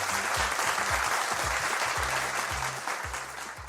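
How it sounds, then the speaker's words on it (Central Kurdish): An audience claps steadily in a studio, dense applause that holds at an even level and fades slightly toward the end, under a rhythmic low musical beat. "چەپڵەکانتان"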